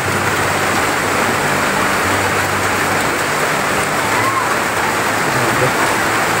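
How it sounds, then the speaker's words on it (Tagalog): Heavy rain pouring down during a flood that has reached a house, a loud, dense, unbroken hiss of rain on surfaces filling the whole stretch, with a voice speaking faintly beneath it. "Sobrang lakas pa rin ang ulan"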